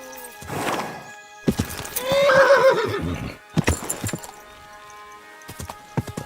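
A horse in the medieval game Kingdom Come Deliverance 2 whinnies loudly while its hooves clip-clop and thud in uneven bursts during a fast ride, with clanking game effects in between.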